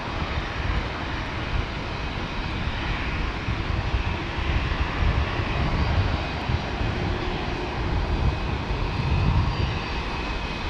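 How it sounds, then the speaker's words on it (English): A fixed-wing airliner's engines roar steadily at Brisbane Airport as it prepares for takeoff, a continuous, fairly loud broadband rumble that swells slightly toward the end, with no talking. "There's a plane just about to take off."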